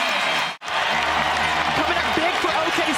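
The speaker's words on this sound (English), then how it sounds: "And the crowd here at Paycom Center appreciating the effort" A basketball crowd at Paycom Center during a 2023 NBA regular-season game between the OKC Thunder and Phoenix Suns applauds and cheers as a broad, steady roar, with a commentator talking over it.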